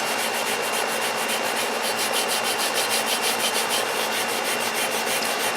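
Steady abrasive scrubbing on an old rusty axe head, a continuous rough rubbing with a fast repeating stroke rhythm, close and loud throughout, no voices.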